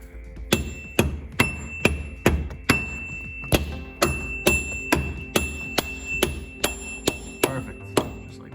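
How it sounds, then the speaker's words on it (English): A hammer taps an axle seal into place on a 2005 Silverado 1500. About fifteen evenly spaced metallic strikes ring out, close and sharp, in a steady rhythm. "You just want to make sure that you tap it in nice, and it's all the way seated."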